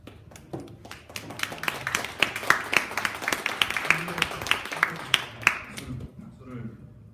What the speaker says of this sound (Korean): 박수를 치시면 안 되는데